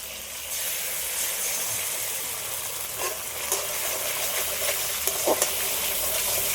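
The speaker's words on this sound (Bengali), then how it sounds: "এবার দিয়ে দিচ্ছি সস।" Sauce hissing in a frying pan with lightly fried green chillies for chow mein, a loud steady sizzle with faint stirring scrapes and a few small clicks.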